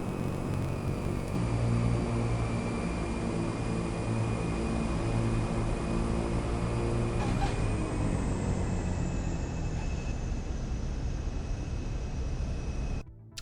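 A Tarantula aircraft in the Nuclear Option game lands on a carrier deck, a continuous loud engine roar and whine with a steady high tone that bends downward midway, heard without speech.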